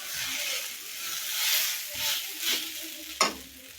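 Potatoes stir-fry in a pan in a village kitchen, with a soft sizzle under repeated scraping strokes of a spatula that swell and fade. One sharper clatter comes near the end.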